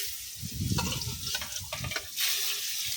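Eggplant slices frying in a pan, a dense close crackling sizzle with stirring scrapes that holds steady across the short clip with no talk.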